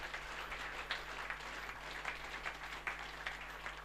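An audience at a poetry festival opening ceremony at Issyk-Kul applauds, a faint, distant patter of many hands clapping steadily for a few seconds.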